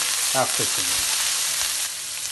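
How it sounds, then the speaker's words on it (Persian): Shrimp, about 100 grams, sizzling in hot oil with garlic in a pan: a steady, close frying hiss fills the clip, with a few faint low murmurs underneath. "100 گرم میگو رو داخل ترکیب سیر و روغنم میریزم"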